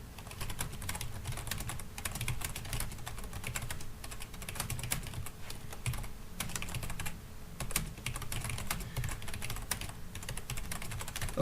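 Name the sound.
computer keyboard typing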